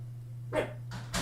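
Indoors, a dog barks a few short, moderately faint times over a steady electrical hum.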